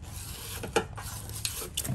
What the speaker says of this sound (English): we're using a brass brush to cast off the bristles to clean up all that rust in the areas here